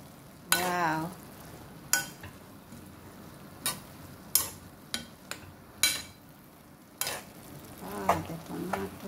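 Tomatoes and onions fry in a pan, a soft sizzle beneath a series of separate scrapes and clinks as a utensil stirs the pan about eight times at uneven intervals.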